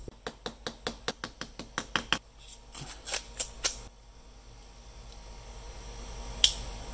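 Small scissors added to a Victorinox Cadet pocket knife being snipped open and shut: a quick, even run of about a dozen crisp metallic clicks, then a few slower, irregular snips and a faint late click.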